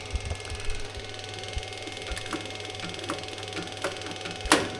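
An electric fuel pump in a Beetle ute ticks faintly and irregularly with sharp little clicks over a quiet low hum, plus one louder click near the end.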